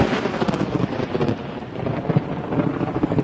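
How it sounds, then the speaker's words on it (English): A thunderstorm over Richmond, Virginia, produces a deep, continuous rolling rumble of thunder mixed with steady rain, loud and enveloping throughout, with no voices. "Oh, that's right, lightning and thunder."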